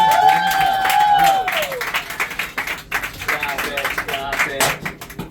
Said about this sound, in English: how about a nice big round of applause for our pilot for taking us down